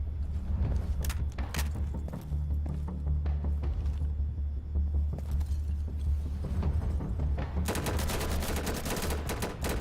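Rifle fire in the video game Insurgency comes as dense, rapid, loud bursts of shots over a deep rumbling bed, growing sharper and busier toward the end.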